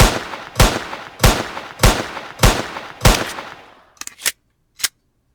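Six evenly spaced gunshots from a gun in a Roblox game ring out loudly, followed by a few faint mechanical clicks and taps after the magazine empties.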